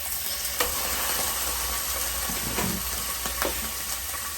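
Lean grass-fed ground beef sizzles loudly and steadily in a pan, with a few soft scrapes and taps as it is broken up, close by and without speech.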